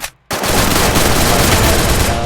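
In a classic-mode battle-royale match set in Indonesia, loud, dense bursts of gunfire begin abruptly after a short quiet moment and continue as sustained rapid shots with no speech.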